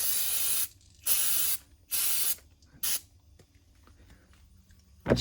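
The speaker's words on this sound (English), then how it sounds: "I just want to solvent spray off any of the little dust that might have got on there and been stuck to the oil." Short bursts of solvent spray hiss across disassembled DNM Burner shock parts, three separate blasts of about half a second to a second each, close and loud, with quiet pauses between them and a final burst at the end.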